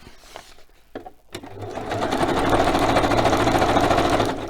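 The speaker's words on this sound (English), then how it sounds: "I'm going to grab my sewing machine over again." A sewing machine starts up and runs steadily, its fast mechanical stitching rattle loud and close after a few clicks.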